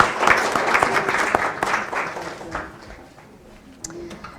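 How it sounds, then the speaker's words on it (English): Audience applause at a leadership and security panel of a conference, a dense burst of clapping that gradually thins and fades over a few seconds. "You can have a virtual round of applause."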